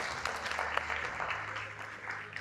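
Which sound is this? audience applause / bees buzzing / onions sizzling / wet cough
audience applause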